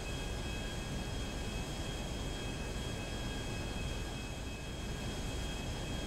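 An aircraft engine in a GTA roleplay game gives a loud, steady, unbroken roar with a constant whine running through it, heard alone without any talk.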